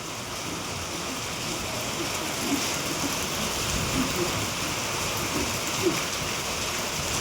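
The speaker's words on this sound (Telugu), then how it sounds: "ఈ వర్షానికి భారీ వర్షం వస్తుంది కదా" Heavy rain pours down in a village as a steady, even wash of hiss. A few faint louder drops or splashes stand out against the constant downpour.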